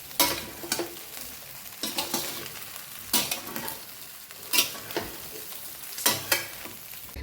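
Spoon stirring a thick batter of grated bottle gourd, leftover cooked rice and fresh coriander in a metal vessel, with scraping strokes and sharp clinks recurring every second or so, close and steady with no talking.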